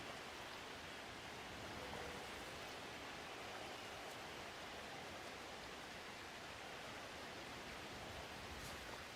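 Steady rain falls across a Blood Bowl 3 match, a dense, even hiss of downpour that holds at a constant level from start to finish with no voices over it.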